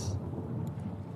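Thunderstorm in the game Book of Hours: a low, rumbling roll of thunder sustained under a hiss of rain, brief and fairly quiet.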